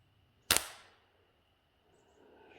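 A single sharp crack of an air rifle pellet shot, close and loud, decaying quickly into a quiet outdoor background in the Adirondacks.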